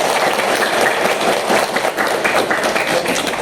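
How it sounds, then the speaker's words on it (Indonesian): Secondary school students in a computer networking class at SMPN 02 Belitang III clap together in a dense, close burst of applause filling the room for a few seconds. "Kasih tepuk tangan dulu buat teman-teman"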